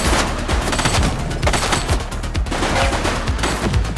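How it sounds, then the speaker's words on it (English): In a shootout in The Precinct video game, rapid overlapping bursts of gunfire crack continuously. Loud, dense volleys fill the whole stretch. "She's shooting!"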